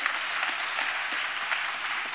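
A church congregation claps together in praise during a sermon. The clapping is a continuous, moderately loud, even patter of many hands with no clear voices on top.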